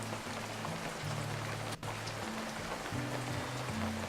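Steady rain falls in the VR game From Ashes, a dense, even patter with a low musical drone beneath it and a single sharp click partway through.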